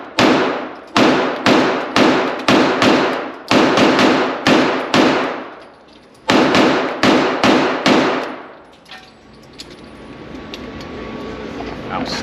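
Rapid strings of loud pistol shots from a S&W M&P 2.0 Metal Frame Competitor 9mm, fired in several quick bursts of sharp cracks with brief pauses between, then the shooting stops and quieter ambient noise remains.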